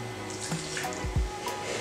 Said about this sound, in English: And then you want to add a tablespoon of water.